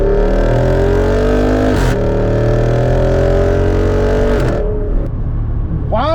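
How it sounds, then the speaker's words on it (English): A 2023 Jeep Wrangler 392 V8 under hard acceleration, loud and close from inside, with rising engine tone climbing through gears and brief shift breaks between pulls. "Let's go and do a hard pull in this thing."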